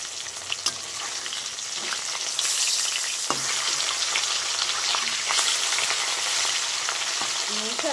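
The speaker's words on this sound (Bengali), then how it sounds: "সব থেকে ভয়ঙ্কর কাজ এটা, মাছ ভাজাটা" Fish fries in hot oil in a home kitchen, a loud, continuous close-up sizzle that swells partway through, with occasional spatters and utensil clinks.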